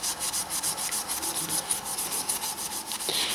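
Soft wire wool rubs briskly over stainless steel fittings on a boat, a close, rhythmic scouring hiss in quick back-and-forth strokes with no talking.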